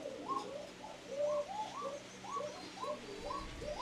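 Pigeons coo at a pigeon seller's loft holding many birds and young squabs. The soft, rolling coos repeat steadily and close by, with no talking.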